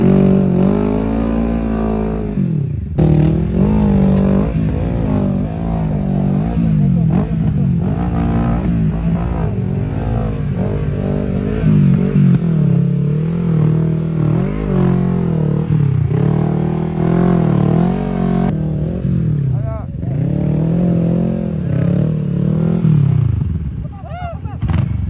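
A motorcycle engine revs and labors continuously on loose rocky ground, surging and dipping in pitch as it strains, loud and close throughout with brief drops.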